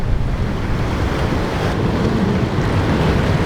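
Ocean surf at Ala Moana Bowls in Waikiki, a loud, continuous wash of breaking waves with heavy wind buffeting on the microphone and no voices.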